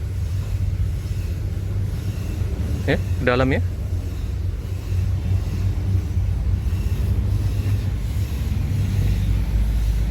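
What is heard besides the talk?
Sinar Jaya bus engine being checked by mechanic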